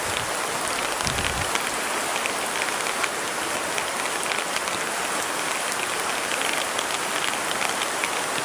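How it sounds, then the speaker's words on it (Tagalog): Heavy rain pours steadily in a dense, continuous hiss with no talking, drumming hard on surfaces close by. "Sobrang lakas na ng ulan dito."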